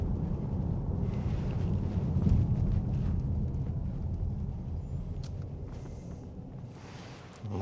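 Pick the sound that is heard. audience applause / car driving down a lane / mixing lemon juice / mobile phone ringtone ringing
car driving down a lane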